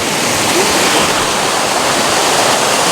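Water rushing steadily from a creek spring in a Texas forest near Austin, a loud, unbroken broadband wash with no pauses and no voices.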